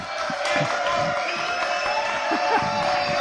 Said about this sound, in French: Applaudissements pour Jean-Paul Césari